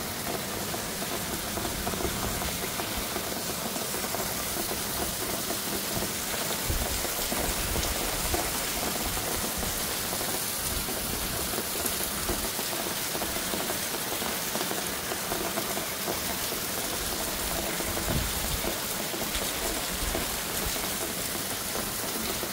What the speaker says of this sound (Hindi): लेकिन देखो बहुत बारिश हो रहा है, बहुत ज्यादा तेज